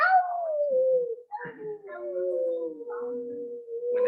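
A voice imitates a long, sliding howl that dips and wavers over several seconds, close up with brief breaks.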